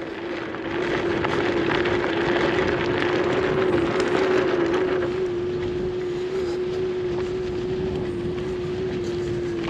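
A G-Force S10 electric scooter with mechanical brakes rides off road, its motor giving a steady whine over rough rumble and wind, close and continuous throughout.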